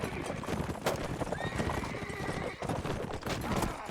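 Cavalry horses in a multiplayer medieval battle game gallop with steady clip-clop hoofbeats and let out a drawn-out whinny, mixed with battle clatter and a commentator's voice throughout.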